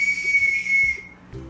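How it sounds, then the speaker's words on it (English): A small toy whistle sounds one sustained shrill tone for just under a second, then stops, followed by a few soft handling thumps. "My weenie whistle."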